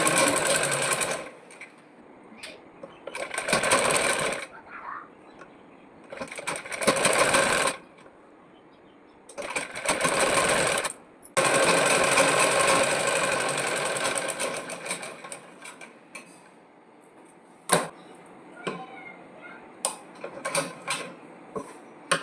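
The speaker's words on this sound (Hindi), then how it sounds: "अब इस पे हम एक साइड से सिलाई लगा लेंगे और दूसरे साइड से हम ब्लाउज में लगाएंगे इसको।" Sewing machine stitching piping onto a blouse, running in several bursts of rapid mechanical whirring separated by quiet pauses, with a longer continuous run mid-way and scattered clicks near the end.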